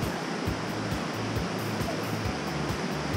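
Gold Creek in Juneau, Alaska rushes steadily just below Silver Bow Basin, a dense, continuous roar of flowing water close by with no voices.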